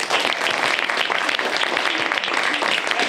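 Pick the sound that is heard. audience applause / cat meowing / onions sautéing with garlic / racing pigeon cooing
audience applause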